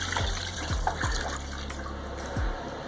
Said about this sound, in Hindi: इसमें डाल देंगे 8 कप पानी